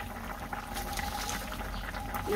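Curry coming to a boil in a pot, giving a steady, close bubbling and gurgling that runs unbroken throughout.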